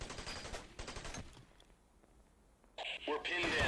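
Rifle gunfire from the video game Ghost Recon cracks in short bursts at the start and again near the end, while someone talks over the shooting.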